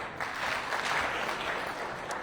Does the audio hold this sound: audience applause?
yes